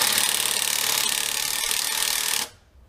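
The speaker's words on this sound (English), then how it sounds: "This is the Milwaukee with the DeWalt bit." A Milwaukee 12V drill fitted with a DeWalt bit bores into wood, a loud, gritty grinding churn with steady motor buzz that runs close for about two and a half seconds before cutting off abruptly into near silence.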